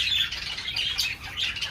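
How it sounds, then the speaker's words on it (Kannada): Pet cockatiels squawk in a dense, continuous chorus of shrill, overlapping calls, loud and close, with no talking. "ಕಾಕ್ಟೇಲೆಲ್ಲ ಸ್ವಲ್ಪ ಕಷ್ಟನೇ ನೋಡಿ. ಇವಾಗ ಹಿಂಗೆ ಸೌಂಡ್ ಮಾಡ್ತಾನೆ ಇರ್ತವೆ ನೋಡಿ."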